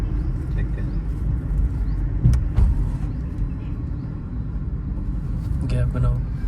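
A learner car on a Chandigarh driving lesson pulls along in second gear with a low, continuous engine and road rumble heard from inside the cabin, with a voice speaking over it at times.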